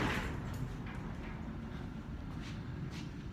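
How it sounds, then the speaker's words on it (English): A garage door closes in a home workout space, a continuous low rumbling slide that stays steady and fairly close throughout, with faint scraping on top and no voices. "And what I'm going to do too is close this garage door."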